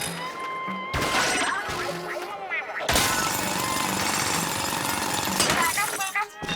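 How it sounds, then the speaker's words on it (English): Drilling and crystal-smashing effects from the Splatoon Raiders video game as a bot bores into a crystal, a loud sustained grinding clatter with crashes, cutting out briefly near the start before resuming steadily over game music. "press X to call the bot to drill into the crystal"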